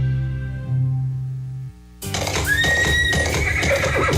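A horse neighs loudly in a long, shrill whinny that rises and wavers, following a brief low hum and a moment of near silence.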